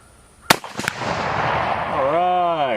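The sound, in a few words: CZ527 carbine rifle shot, 7.62x39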